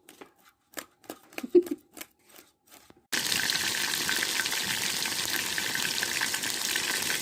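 Food frying in mustard oil on a wood-fired stove gives a loud, steady hiss and sizzle that starts abruptly and carries on unbroken. Before it come a few scattered clinks and scrapes of utensils.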